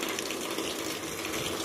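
A water pump runs in the lines of a travel trailer, water gushing and rushing steadily and fairly close for the whole stretch, with no talking over it.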